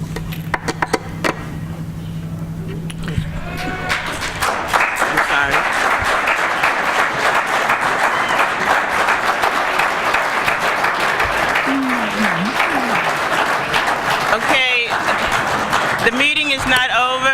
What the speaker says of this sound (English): I would ask that you not clap at this particular time.